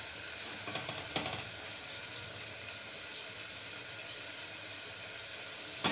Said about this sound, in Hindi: इस सूजी को लगातार चलाते हुए हम लगभग 8 से 10 मिनट भूनेंगे